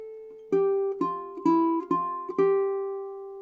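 A single-line ukulele melody from the Fijian song Isa Lei, played without harmony: about six clear plucked notes at a gentle, even pace, each ringing and sustaining, close and soft, with no voices.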